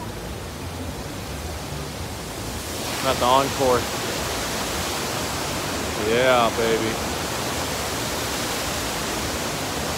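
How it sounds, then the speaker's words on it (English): Indoor waterfalls at the Encore hotel in Las Vegas make a constant, loud, even rush of falling water, with someone talking briefly over it twice. "Those waterfalls."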